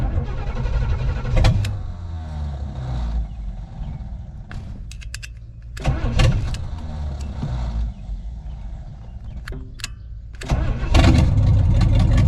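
A 1970 Pontiac Grand Prix with a 455 V8, once stuck, cranks and fires in several loud attempts, with sharp bursts and revs between stretches of rough, uneven running close to the microphone.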